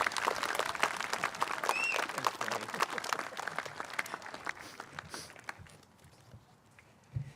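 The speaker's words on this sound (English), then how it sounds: "Give him a big round of applause" Loud, dense applause from an outdoor crowd at a Veterans Day ceremony at the Mt. Soledad Memorial, rising at once and then thinning and fading toward the end.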